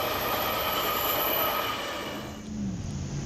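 Metrolink commuter train rolling along rails with a loud, steady rumble and high wheel squeal that briefly eases before the noise picks up again.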